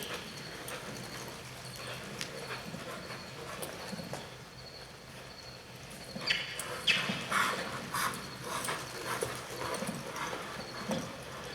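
Hooves of a horse trotting and loping in a riding clinic arena, steady rhythmic clip-clop at moderate distance that grows louder and more pronounced in the second half.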